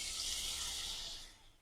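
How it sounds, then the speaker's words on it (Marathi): Water pours steadily into a pan of sautéed stuffed brinjal cooked village-style with masala, a bright splashing rush that fades toward the end, with no talking. "मस्त 2-3 मिनिटं परतल्यानंतर पाणी घालून घेणार आहोत"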